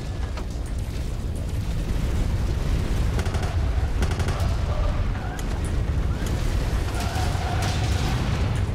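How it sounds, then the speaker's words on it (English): Enemy mech gunfire in a combat mech video game: a dense, loud, continuous barrage of rapid shots and mechanical clatter with repeated bursts throughout and no voices over it. "Good, they're starting to shoot me."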